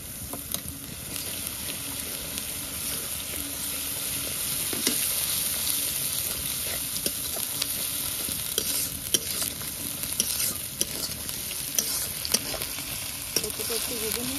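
Ginger paste frying in a pan for a chicken curry, a continuous close sizzle with scraping stirs and occasional spatula clicks.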